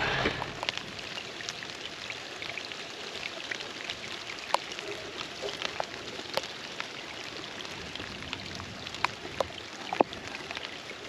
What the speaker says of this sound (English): We were not expecting to get rained on today